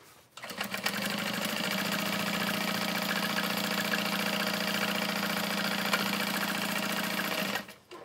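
A sewing machine runs steadily, stitching across the bottom of a tote bag lining: a continuous, fairly loud mechanical whir with a rapid needle rhythm that starts, holds for several seconds and stops, with no talking.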